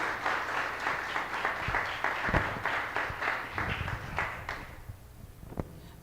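A church congregation applauds in pulsing waves of clapping that fade out toward the end, leaving a couple of isolated claps.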